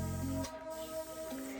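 Water spritzed from a spray bottle onto a hair brush to dampen it, a short hissing burst near the start followed by a quieter second spritz, close up, with steady background music underneath.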